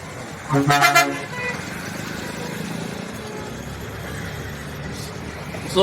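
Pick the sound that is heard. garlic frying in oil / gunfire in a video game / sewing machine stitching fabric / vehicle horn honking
vehicle horn honking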